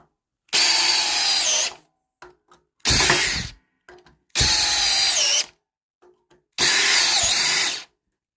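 A compact DeWalt DCD709 cordless drill with a Power Stack battery drives lag screws at high speed in four separate bursts of about one second each. The loud, close motor whine rises and strains as each screw seats, with short quiet gaps and no talk.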